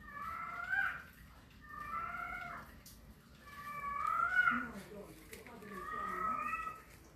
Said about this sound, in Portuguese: tem um gato nojento aqui no circo que tá enchendo o saco